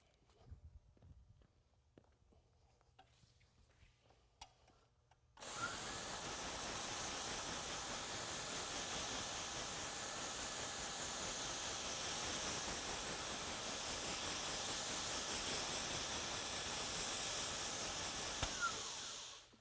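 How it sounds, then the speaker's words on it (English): A concrete overlay panel being sanded, heard as a loud, steady broadband power-sander roar that kicks in abruptly after about five seconds of quiet and runs continuously until it cuts off at the end. "So I'm going to get busy and get this panel sanded."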